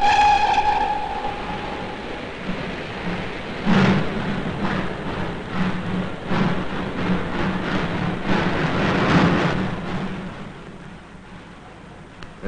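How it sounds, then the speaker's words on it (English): The Night Scot express train, a 1940s steam-era service, roars out of the station with a loud, continuous rumble, rhythmic chuffing bursts and a whistle-like tone at the start, gradually fading as it pulls away. "The night Scot, roaring out in its narrow northern journey, out and away from the station with its station smell"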